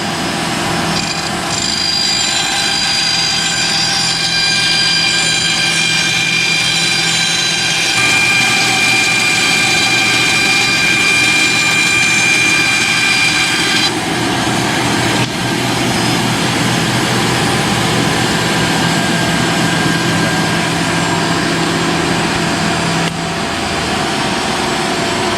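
A power saw cuts through Coosa board, a loud, continuous whining drone holding steady for the whole stretch with slight shifts in tone as the cut progresses.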